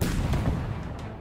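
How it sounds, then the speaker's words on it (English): A missile fires in the Halo video game, a single loud, close boom that rolls into a rumbling tail and fades over about a second. "You shoot a missile"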